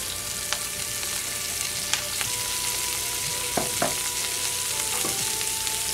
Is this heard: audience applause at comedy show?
no